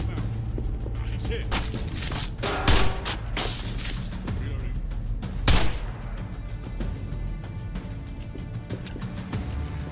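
Rapid bursts of Uzi pistol fire in the video game Past Cure, a dense rattling volley with two heavier booms, heard over game sounds and under a man's speech.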